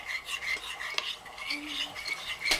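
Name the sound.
stirring oyster sauce and cornstarch sauce mixture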